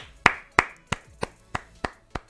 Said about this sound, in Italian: Io un 30 secondi di applausi qua lo farei finalmente.